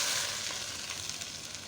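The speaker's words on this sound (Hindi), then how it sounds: "इसमें मेरे पास गरम ऑयल है, गरम, ये डालना है, गरम करके डालना है" Hot oil poured over mutton keema in a karahi sets off a bright, steady sizzle, close and continuous for a couple of seconds with no talking.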